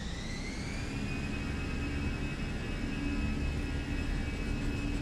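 Airliner jet engines spooling at takeoff power in Microsoft Flight Simulator, a steady broadband roar with a thin high whine held constant throughout, moderately loud.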